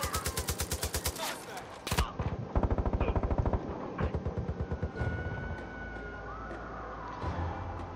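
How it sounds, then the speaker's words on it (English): Enemy gunfire in Far Cry 5 with the Resistance mod: loud rapid automatic bursts, then sharp single shots and more volleys amid vehicle noise and game effects, with someone talking at times. "She's shooting me or what?"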